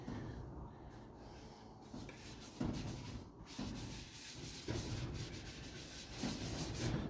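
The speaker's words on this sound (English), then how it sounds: "And now we just wipe on the Triple E." EEE abrasive paste being wiped onto a camphor laurel bowl sanded to 240 grit, a steady close rubbing hiss with a few brief louder scuffs and no talk.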